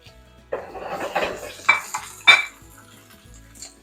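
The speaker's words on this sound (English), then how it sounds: "Pan and oil are nice and hot, so now I'm going to go in my onion and my corn." Onion and corn drop into a hot pan of olive oil, setting off clattering pan and utensil knocks with a light sizzle; several distinct clanks stand out over a low frying hiss, close and fairly quiet, with no voices.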